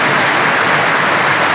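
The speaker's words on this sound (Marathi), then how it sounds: "ती बारका पाऊस नाही मोठा पाऊस आलाय" Heavy unseasonal rain falling in a steady, dense broadband hiss, loud and continuous with no breaks.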